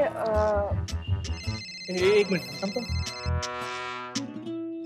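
A phone ringtone plays a repeating melodic tune close by while a person speaks briefly over it.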